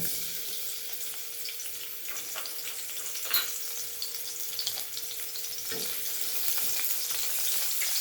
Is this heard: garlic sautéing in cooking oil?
yes